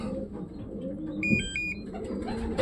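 Pigeons coo softly nearby in a steady low murmur, with a brief run of thin, high chirping tones partway through.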